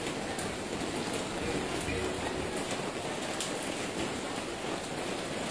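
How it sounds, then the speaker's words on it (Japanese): Steady rain falls through the narrow streets of Jiufen, Taiwan, a dense continuous hiss of drops on the ground, with faint voices and bustle mixed in. "雨降ってる、降ってるよ。"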